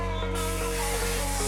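Hairspray is sprayed onto styled hair in one close, hissing burst that begins abruptly and lasts just over a second, with no speech.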